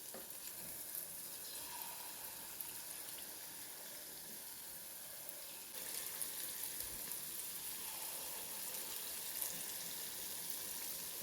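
Unniyappam batter fries in hot coconut oil and ghee in a nonstick appam pan, a soft, steady bubbling sizzle that grows a little louder partway through as more batter goes in, with no voices.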